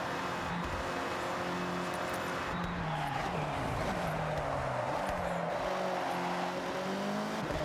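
Engine note of a small Mazda Miata roadster in the Forza Horizon racing game, a steady revving drone with shifting pitch as it accelerates and slows through corners, loud and continuous with no talk.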